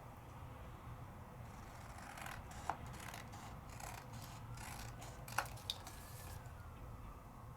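Scissors snip through a paper mat for a card project, giving a few soft cuts and sharp little clicks near the microphone over a low steady room hum.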